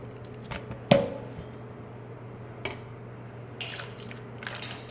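Knife cutting the stems off raw mangoes for avakaya pickle, giving a sharp snick near the start followed by a few softer cuts and handling sounds, close by with a steady low hum underneath.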